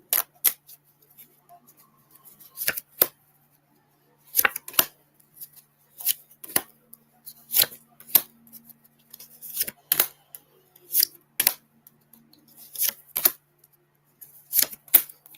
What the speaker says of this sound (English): Let's shuffle the cards a little bit and see what you get.